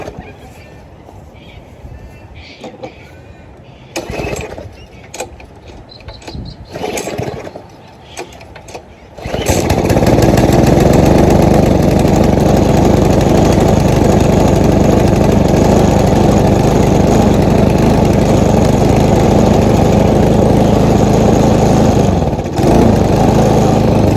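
A repaired, previously non-running lawn mower engine starts up after a few seconds of quieter handling sounds, then runs loud and steady near by, below full throttle, with a brief dip near the end.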